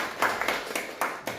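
A few people clap in a short, brisk burst of claps with a steady rhythm, close by, brief rather than a full ovation.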